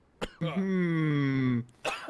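A man coughs during a DayZ game stream: a short sharp burst, then a longer strained, voiced hack, then another brief cough, close and fairly quiet.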